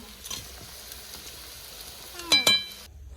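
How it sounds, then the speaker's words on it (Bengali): Meat braising in a pan in a village home kitchen gives off a low, steady sizzle. A couple of sharper clinks and scrapes from stirring stand out near the end, then it goes quiet. "বোন মাংস রান্না করছে"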